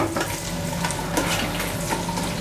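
Onions sizzling in a pressure multi-cooker pot for pork balbacua, a dense, continuous close frying hiss with faint crackles and occasional stirring scrapes, steady throughout with no voice.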